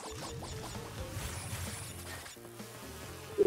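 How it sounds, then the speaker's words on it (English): Buzzing bees in the video game Crash Bandicoot N. Sane Trilogy, a steady swarming drone mixed with game music and effects, fairly loud and continuous throughout with no talk. "Keep running, don't worry about the bees."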